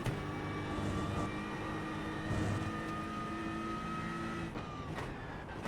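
Race car engine in the iRacing sim, a steady high-pitched harmonic drone holding revs, then a shift or lift near the end as the tone drops, continuous and close with no talking.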